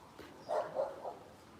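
A loose dog on a street during a morning walk in Kenya gives three short barks in a row, fairly close and moderately loud, with no talk over them.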